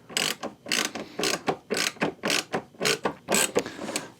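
Ratchet snugging down fittings on a Road Glide motorcycle, close and distinct, a regular series of about eight to nine rasping clicks in a steady rhythm.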